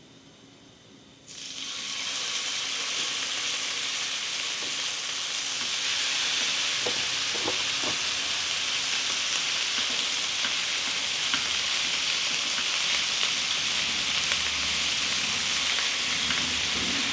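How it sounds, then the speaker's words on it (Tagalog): Beef hits a pan of toasted garlic and erupts into a loud, steady sizzle after a brief quiet start, with a few stirring clinks early on and a hiss that swells and holds. "lalagyan na natin yung mga beef"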